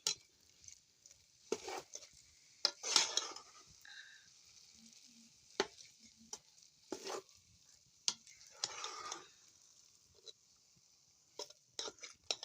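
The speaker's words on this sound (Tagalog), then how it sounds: "This is the way how to cook these dried apricots to make it chutney" Dried apricots for chutney cook in a pan with quiet sizzling, intermittent stirring scrapes and clinks of a utensil against the pan, close and fairly soft.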